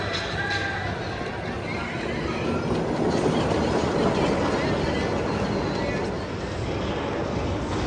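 Woodstock's Airmail ride at an amusement park runs a test cycle, a steady rolling rumble with faint rattling from the moving ride that holds evenly throughout, no voices.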